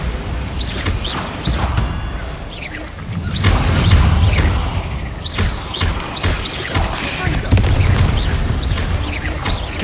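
Repeated booming blasts and crashes from Confringo and Bombarda spells in Hogwarts Legacy, loud impacts landing every second or so with heavier rumbling bursts, with little talk.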